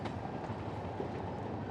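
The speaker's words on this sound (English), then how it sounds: "he could hear the roar of the trains thundering through the tunnels below" Trains thundering through London Underground tunnels, a deep continuous rumbling roar with faint rhythmic rail clatter, steady and close throughout.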